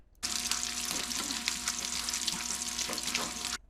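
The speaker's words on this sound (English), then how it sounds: "I'm going to cut in a sound of this bacon frying for your pleasure here." Peppered bacon frying on a grill gives a steady, dense sizzle and crackle. A low hum sits under it, the popping is close and moderately loud, and it plays alone for several seconds without any talking.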